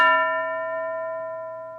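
A teacher strikes a hand bell once during a spoken English lesson, giving a clear ringing tone with steady overtones that fades slowly over about two seconds, heard alone with no talking.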